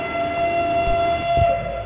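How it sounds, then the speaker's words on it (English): A steam engine train in a horror video game gives a steady, loud mechanical drone with a sustained whistle-like tone across the whole stretch, joined by a couple of low thumps near the end. "Okay, I guess it's like a steam engine sort of thing."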